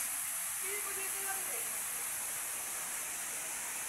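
Kalibong Falls in San Nicolas, Pangasinan, heard as a constant loud broadband rush of falling water, steady throughout with a brief faint voice near the start.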